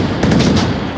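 Gunfire from the VR shooter Onward bursts as dense, loud cracks and thumps running through the whole second, close by and rapid.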